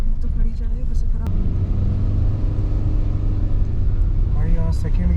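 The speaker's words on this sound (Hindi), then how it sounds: "भाई यहाँ सेकंड गियर में तो कार चढ़ेगी नहीं, टर्बो डीजल। फर्स्ट गियर में ही ले जाना पड़ेगा।" A turbo diesel car labors up a steep mountain road in first gear, its engine a steady, heavy low rumble close by and continuous throughout, with faint voices briefly audible over it.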